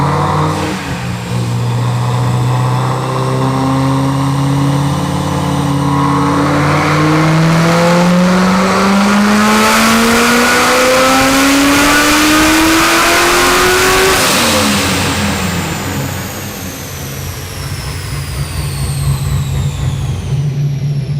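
Supercharged Corvette C6 Z06, a 1000-horsepower Stage 5 build, revs hard through a full pull, its loud engine note climbing steadily in pitch for about fifteen seconds before backing off to a rougher, lower drone.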